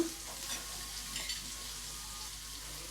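Chopped shallots (sambar onions) frying in oil for a quail egg roast, giving a steady soft sizzle with light stirring scrapes, fairly quiet and with no one speaking.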